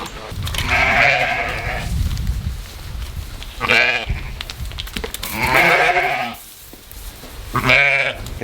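Sheep in a winter farm pen bleat loudly and close, four long wavering calls spaced a couple of seconds apart over light outdoor background noise.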